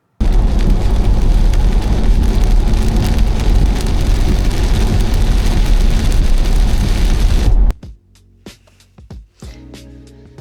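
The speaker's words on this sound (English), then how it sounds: "the weather is pretty horrible, stormy, rainy" Heavy stormy rain drums steadily on a car while driving, a loud dense wash for about seven seconds before cutting off abruptly to a quieter interior with a few faint knocks.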